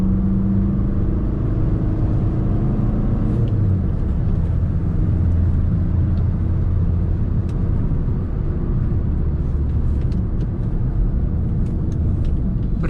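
A 2010 Skoda Laura 1.9 TDI diesel cruises steadily in fourth gear with a continuous low engine rumble and road noise heard from inside, holding an even pitch throughout.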